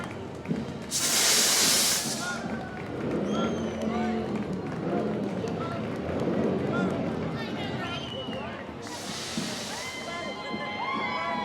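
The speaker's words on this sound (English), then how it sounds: "You can see that steam coming out of that serpent's nostrils." A serpent head on a Viking float in Bremerton's Armed Forces Day parade hisses steam from its nostrils in two sharp, loud bursts several seconds apart, over a steady outdoor crowd murmur with a voice talking throughout.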